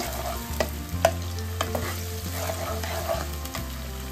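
Chicken noodles with chopped green chillies being stir-fried in a pan, with a steady sizzle and repeated scraping, clattering stirs throughout.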